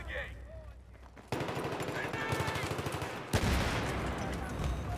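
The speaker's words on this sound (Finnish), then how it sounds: "Sitten ammutte niitä pensaa" Automatic gunfire in a Battlefield match on Operation Metro, sustained rapid bursts starting abruptly and intensifying into a louder, denser volley, with voices faintly underneath.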